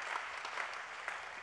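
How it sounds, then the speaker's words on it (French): An audience applauds at the official launch event of The Arch at ChangeNOW, a brief, steady patter of clapping from a seated crowd, moderately distant and fairly quiet. "Applaudissements pour Jean-Yves Tesson"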